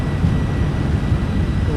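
A TFDi MD-11 on its takeoff roll down a bumpy runway in MSFS 2024, a loud steady low engine roar and rumble filling the cockpit throughout the short stretch.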